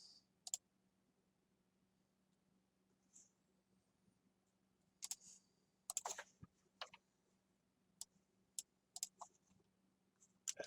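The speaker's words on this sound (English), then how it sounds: "I have a crazy loud keyboard from the 1980s" A loud 1980s computer keyboard is typed on in scattered, irregular clicks and short bursts of keystrokes, faint and up close, with long pauses in a quiet room.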